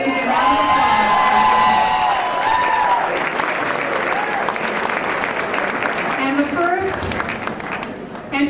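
Audience applause at an award ceremony, a loud crowd clapping steadily with scattered cheers and whoops, while voices carry over it throughout.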